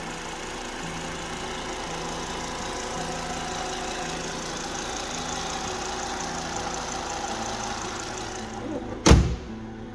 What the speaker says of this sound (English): The car is running right now.